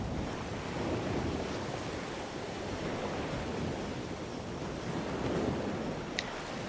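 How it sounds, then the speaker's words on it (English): Ocean waves in the video game Survive The Wild wash steadily along a shoreline, a continuous roaring surf with gentle swells and no voices. "the sound effects are just amazing. You can hear the waves."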